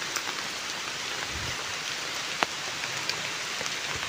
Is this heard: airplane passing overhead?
no